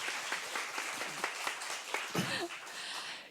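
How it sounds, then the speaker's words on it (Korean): An audience at a TV station's anniversary book concert applauds to welcome performers on stage, a dense, steady wash of clapping with a few brief voices and other sounds mixed in. "박수로 맞아주세요"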